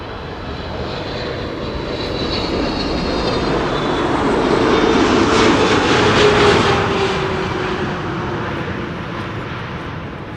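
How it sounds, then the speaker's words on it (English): A KLM Boeing 777-300 airliner arrives at Amsterdam Schiphol on a flight from Cape Town. Its steady engine roar swells as it passes, peaking mid-way, then fades with a high whine on top, and no one speaks. "This is KLM flight 598 arriving from Cape Town"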